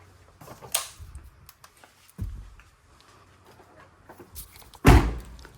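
A sharp, loud thud of a 2010 Nissan Frontier truck door shutting near the end, after a couple of softer knocks and clicks in a quiet setting.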